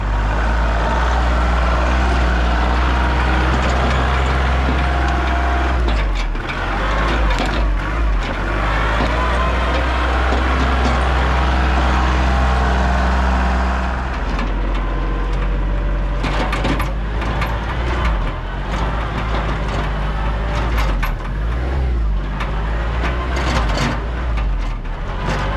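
Tractor engine running close by near a fallen log being readied to drag to a sawmill, a loud steady low rumble throughout with some clanking and shifting mechanical noise.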